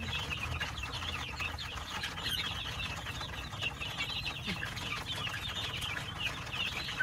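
A flock of six-week-old Dekalb White chickens, soft overlapping clucks and chirps at a distance under constant farmyard background noise, faint and continuous.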